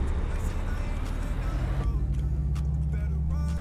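A steady low engine drone hums throughout, like a car moving along, from a 2016 Dodge Charger R/T in Euro Truck Simulator 2, with a voice talking over it.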